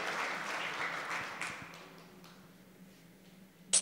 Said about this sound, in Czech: A zaslouží si potlesk hned